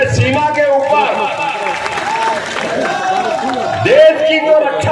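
A large crowd at a political rally in Chandla claps and cheers, a continuous broad wash of applause mixed with a voice booming over a loudspeaker.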